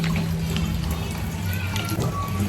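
Water running from a tap into a container in a home kitchen, a steady close trickle and gurgle filling the whole clip without a break.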